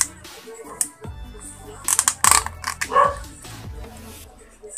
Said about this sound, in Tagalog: So ang ingay ng aso guys